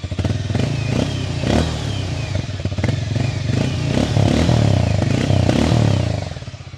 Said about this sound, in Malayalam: അപ്പോൾ ഇതാണ് പുതിയതിൻ്റെ എക്സോസ്റ്റ് നോട്ട്